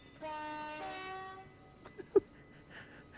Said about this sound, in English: That's a slightly Nokia 3310 sounding horn sample there.